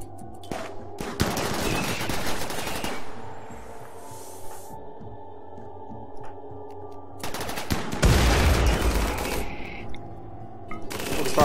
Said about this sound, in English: Focus fire on that guy.